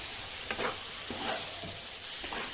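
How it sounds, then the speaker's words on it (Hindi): Ground onion and garlic paste sizzles in a pan while frying chicken on a medium flame, a loud steady hiss with soft stirring scrapes, close up and without talk. "अब हम इसमें ऐड करेंगे थोड़ा सा पिसा हुआ अनियन और गार्लिक का पेस्ट"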